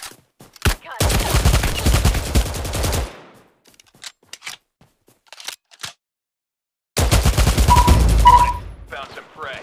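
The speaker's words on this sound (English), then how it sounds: "Warning, incoming bombardment." Incoming bombardment and gunfire in the mobile shooter Omega Legends: two loud bursts of rapid fire and explosions separated by a stretch of sparse clicks and small pops, with a synthetic game voice announcing between them.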